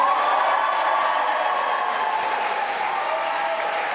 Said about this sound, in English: Huge round of applause for Ian Lavery there, keeping that seat, and